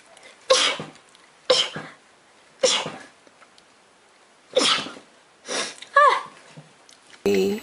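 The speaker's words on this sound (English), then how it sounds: "I'm gonna sneeze." A young woman sneezes repeatedly, six sharp, close bursts spaced about a second apart with breathy intakes in between, followed by a brief spoken remark at the end.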